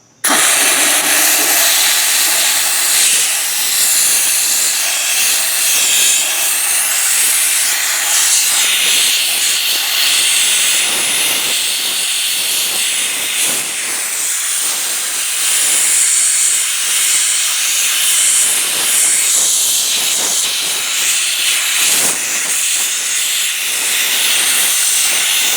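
Wagner Spraytech SteamMachine steam cleaner fitted with a bigger head, a loud continuous steam hiss that starts abruptly and runs steadily, with slight fluctuations as it moves across a surface.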